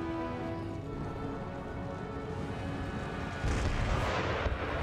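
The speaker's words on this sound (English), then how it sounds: "Oh, yeah, artillery from the fort's just shredding them." Fort artillery in the Empire: Total War video game keeps up a dense, continuous rumble of distant cannon fire and battle noise, swelling louder near the end.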